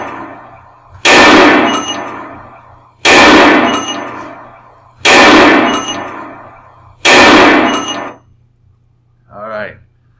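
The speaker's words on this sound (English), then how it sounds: "Those are supposed to be gunshots." Four loud, evenly spaced recorded gunshots play from a speaker about two seconds apart, each with a metallic decay, over a low hum, followed by a short voice.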